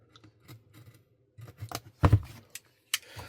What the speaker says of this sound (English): Just going to quickly cut that seal there.